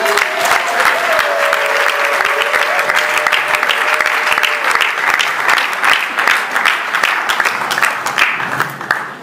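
A studio audience on a talk-show set bursts into sustained applause, thick and loud clapping for several seconds before it thins and fades at the end.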